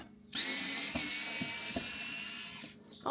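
A small electric screwdriver whirs steadily for about two and a half seconds while backing out the reflector screws on a 2022 Honda Accord, a close, high-pitched motor buzz with a few faint clicks, then cutting off.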